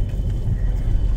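A car engine idles and rumbles steadily up close near Kakarbhitta on the Nepal–India border, a low continuous drone with faint voices mixed in, just before it is switched off.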